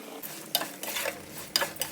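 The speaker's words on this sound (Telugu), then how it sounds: "ఇప్పుడు ఇందులో తగినంత కారం అండ్ సాల్ట్ వేసి బాగా మిక్స్ చేసుకొని సర్వ్ చేసుకోవడమే" Roasted bitter gourd pieces tossed with chili powder and salt, a short run of quiet stirring scrapes and light clatter with faint sizzle.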